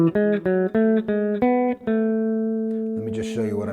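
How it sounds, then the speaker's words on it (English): Pitched tones, electronic-sounding, step through a scale in thirds as a quick run of short separate notes, then ease into a long sustained note before a final lower pair. "If I play this scale and sequence it in thirds"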